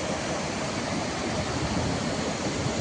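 Jogini waterfall near Manali, heard from a distance as a constant, even roar of falling water with no voices.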